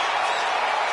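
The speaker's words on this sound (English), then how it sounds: "And Lyra Valkyria is revving this crowd up." A loud, dense roar of arena crowd cheering in the WWE 2K25 wrestling video game, a continuous wash of noise over the whole moment.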